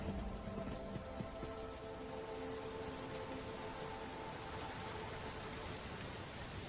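Steady rain ambience from the Darkmoor Manor video game, an even hiss of falling rain that holds at a constant level throughout, with faint tonal hum underneath and no talking.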